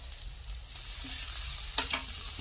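Chopped coriander leaves go into fried spice paste that has released its oil, for a pankal fish dish. A constant close sizzle runs throughout, with a couple of brief scraping stirs near the end.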